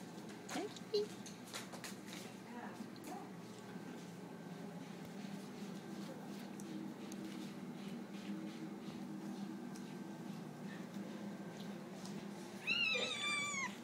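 A cat at an animal shelter meows a few times, faint and indoors, with one clearer, rising meow near the end amid soft background noise.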